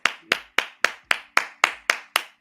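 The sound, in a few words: clapping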